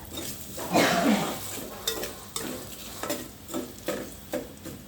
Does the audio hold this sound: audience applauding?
no